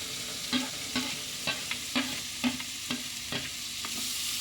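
A spoon stirs chopped onion, chili, ginger and coconut pieces in a pan, making a regular series of scraping knocks about every half second over a soft, steady sizzle. The sound is close and moderately quiet, with no voices.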